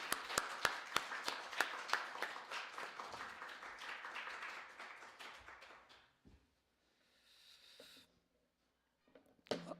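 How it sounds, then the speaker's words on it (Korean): Church congregation at a Wednesday prayer meeting clapping to welcome a missionary, at first with several sharp separate claps and then a softer, fading round of applause that dies into near silence, followed by a few faint sounds. "우리 선교사님 앞으로 모실 때 큰 박수로 모시도록 하겠습니다."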